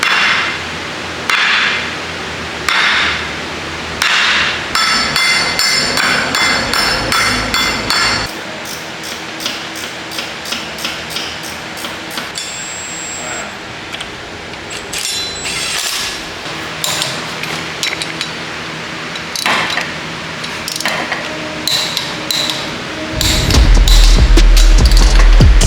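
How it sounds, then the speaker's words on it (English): A pilot bearing being hammered into a Miata during a throw-out bearing repair, with a long series of loud, close metallic hammer blows in irregular bursts, some quick runs of rapid taps and pauses between, ending in a louder rumble. "I'm gonna go ahead and put in our pilot bearing."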